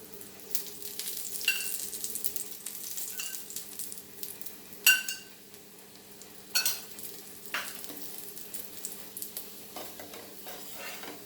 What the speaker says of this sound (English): So now we will add the ghee or oil.